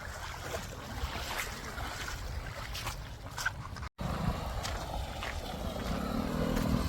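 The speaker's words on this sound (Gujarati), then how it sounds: "જો આખી નદી જાય હો ભાઈ પાણી કાંઈ ઘટે નહીં" Continuous rushing of a strong river current, broadband and steady, with a brief dropout midway before the flow resumes slightly louder.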